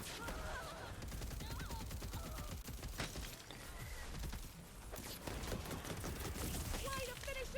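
Steady volleys of gunfire from a gun in Tiny Tina's Wonderlands, dense rattling shots over busy game effects and faint voices, fairly quiet overall.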